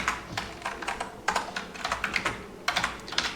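Close, quick typing of code on a computer keyboard, bursts of rapid clicky keystrokes separated by brief pauses, with no one talking.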